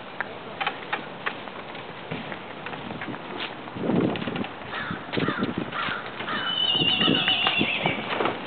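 A horse neighs and whinnies outdoors while pulling a buggy, with clip-clop hoofbeats and crows cawing nearby; a long, loud whinny rises near the end over steady outdoor noise.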